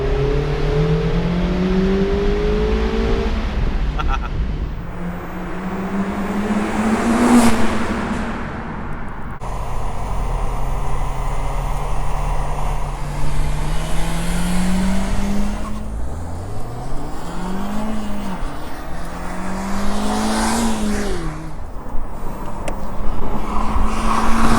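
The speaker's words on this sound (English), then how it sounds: "the best part I have to say about driving the Miata is anytime you go through a tunnel, it's always an awesome experience" A 2019 Mazda MX-5 Miata RF driving through a tunnel, its engine droning steadily and rising in pitch as it revs and shifts through the gears, loud and close with the sound reverberating off the tunnel walls.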